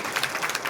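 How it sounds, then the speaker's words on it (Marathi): Audience applause in a Marathi comedy show setting, a short burst of loud, close clapping with uneven rhythmic peaks and no voices. "वा वा, जोरदार टाळ्या झाल्या पाहिजे"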